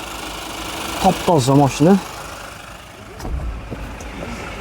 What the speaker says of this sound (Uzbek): Motorlari ham soatda ishlab turibdi.